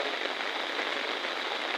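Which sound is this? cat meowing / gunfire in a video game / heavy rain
heavy rain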